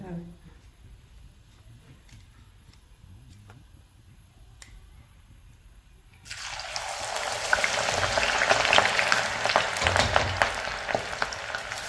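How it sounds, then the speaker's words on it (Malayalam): Banana slices dropped into hot sunflower oil in an iron wok for jaggery-coated chips: after a quieter stretch with light clicks, a sudden loud, steady sizzling hiss of deep frying takes over and continues. "നമുക്ക് കുറച്ച് കുറച്ചായി ഇട്ടിട്ട് വറുത്ത് പോയി എടുക്കാമല്ലേ"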